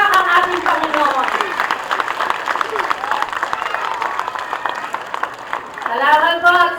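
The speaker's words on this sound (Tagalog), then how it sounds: "Bigyan po natin ng papuri ng palakpak ang ating Panginoon." An audience applauding in praise of the Lord at a children's school language-week event, sustained crowd clapping with scattered cheers and voices, swelling again at the end.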